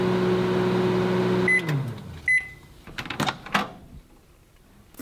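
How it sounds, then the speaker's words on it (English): A microwave oven set on high hums steadily while cooking a mug cake, then the hum winds down with beeps, followed by a door clunk and clattering handling sounds. "put it in the microwave on high for 3 minutes."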